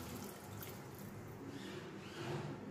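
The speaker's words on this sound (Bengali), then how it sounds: "এবার গ্রেভির জন্য সামান্য জল আমি এর মধ্যে অ্যাড করে দেব" A little water goes into a mustard-spiced curry gravy for a Lasuni aar fish dish, making a soft continuous pouring and splashing wash that stays low and steady throughout, with no talking.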